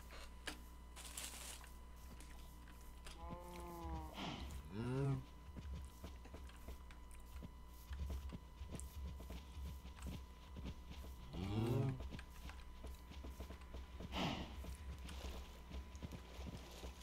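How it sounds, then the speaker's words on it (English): Minecraft cows give low, drawn-out moos on a farm, about three of them spread across the stretch, over game ambience and faint clicks. "Now I need to go and get the cows."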